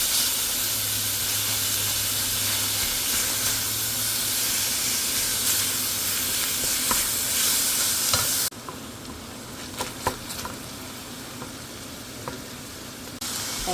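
About 500 grams of ground beef frying in a hot pan: a strong continuous sizzle with spatula stirring and scraping, dropping to a quieter crackle partway through, no speech.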